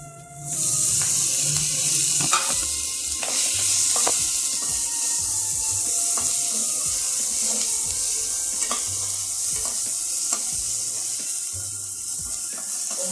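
Ginger garlic paste and curry leaves crackle and sizzle steadily in a hot frying pan for mutton spleen fry, with occasional stirring clinks over the continuous frying hiss.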